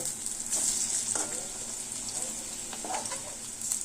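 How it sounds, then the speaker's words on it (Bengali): Fish-oil fritters fry in a pan of oil over a medium gas flame, a steady bright sizzle with occasional crackles and stirring sounds, and some faint talk underneath. "উল্টে পাল্টে বড়াগুলোকে মুচমুচে করে ভেজে নেব"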